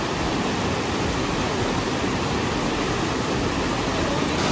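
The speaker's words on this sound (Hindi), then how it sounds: "प्यारे प्यारे झरने बह रहे हैं" A steady, loud roar of rushing water from a small waterfall in Udaipur fills the whole clip, dense and unbroken, with no voices.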